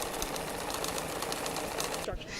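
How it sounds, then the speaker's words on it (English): A computerized long-arm quilting machine, like a large sewing machine, runs with a fast, steady mechanical stitching chatter at close range, then stops abruptly near the end, with voices faintly under it. "Long arm quilting machine is kind of like a big sewing machine"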